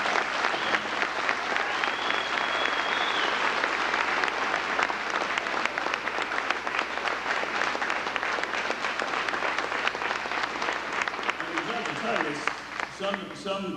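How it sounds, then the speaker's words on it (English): Sustained audience applause at a grand opening event, loud and dense for about thirteen seconds, with voices emerging near the end as the clapping fades. "I'd like you all to give a big round of applause to the judge and the supporters who made this all possible."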